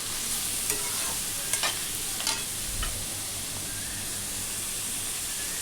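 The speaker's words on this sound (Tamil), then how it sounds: "கொஞ்சமாக கேரட் பீன்ஸ் சேர்த்து நல்லா வதக்கிக்கலாம்" Carrot and beans sautéing in a pan with a faint continuous sizzle and a few light, brief clicks from the spatula stirring, quiet and even throughout.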